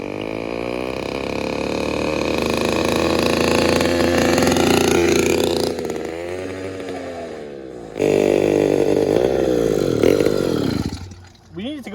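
A small engine on a motorized bicycle screams loudly at high revs during a top-speed run, its pitch rising and dropping as throttle changes, with a brief cut near the end.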